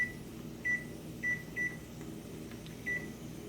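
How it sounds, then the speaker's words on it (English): A kitchen timer is set while rice pudding cooks, giving several short, high electronic beeps at uneven intervals over a quiet, humming kitchen background. "I'm going to put my timer on"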